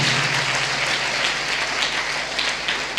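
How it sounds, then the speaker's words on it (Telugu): A church congregation claps loudly together in a dense, steady burst of applause filling the hall, with no talking over it. "గట్టిగా చప్పట్లు కొట్టాలి"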